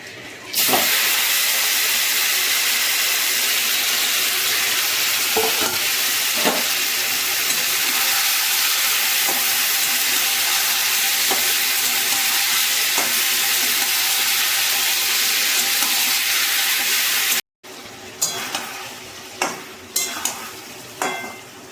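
Marinated chicken frying in hot oil with whole cumin and whole garam masala, a loud, steady sizzle and hiss that runs unbroken for most of the time, then cuts off briefly before resuming with a few clattering stirs.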